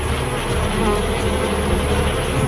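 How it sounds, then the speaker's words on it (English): A dense, loud drone of many bees buzzing together, constant and close, filling the whole stretch without pause. "the bees crowd belly to belly against the invading beast"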